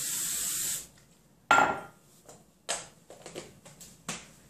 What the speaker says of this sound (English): You're going to spray the inside of your mug.